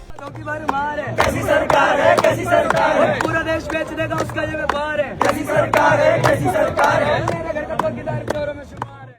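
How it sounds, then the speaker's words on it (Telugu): Young protesters clap in unison and shout together in a loud crowd, their rhythmic clapping and chanting steady and near. "చప్పట్లతో నిరసన తెలుపుతోన్న ఈ యువతను చూడండి"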